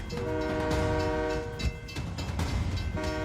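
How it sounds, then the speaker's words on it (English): A northbound train rumbles closer to a car on the tracks, its sustained horn blowing loud, briefly dropping before sounding again over clattering wheels. "The train is just seconds away"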